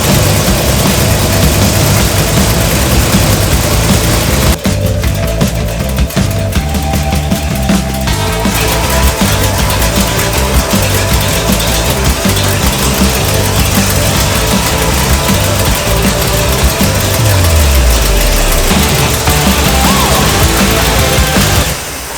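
A 1965 Cadillac engine fitted with a new carburetor idles loudly and steadily up close, its low rumble constant throughout with a brief dip and slight shifts in tone as the idle settles.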